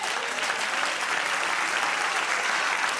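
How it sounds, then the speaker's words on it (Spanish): Church congregation clapping together at a worship service, a dense, steady wash of applause that carries on alone at an even level. "Dale un aplauso al Señor."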